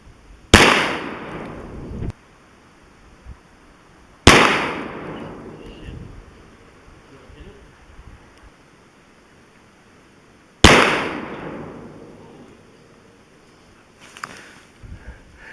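Three sharp gunshots of FTX rounds fired at a metal target ring out far apart, each a loud crack with a short decaying echo, and nobody speaks.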